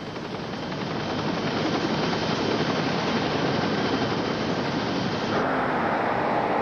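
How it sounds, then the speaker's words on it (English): A Care Flight medical helicopter drones steadily and loudly throughout, a continuous rotor and engine roar that stays close and constant. "20-year-old Matt Enriquez was taken by Care Flight helicopter to a nearby hospital."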